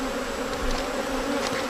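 Honey bees buzz in a steady, dense drone at a queen-rearing hive, close and continuous with no voices.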